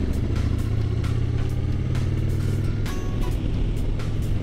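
Steady, loud motorcycle engine drone with constant wind rush while cruising along the Tohoku Expressway toward Morioka, the steady engine note holding throughout.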